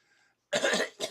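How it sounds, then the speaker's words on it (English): A faint murmur, then two harsh coughs close up, the first longer and rougher, the second short and sharp. "I'm still having issues with coughing too"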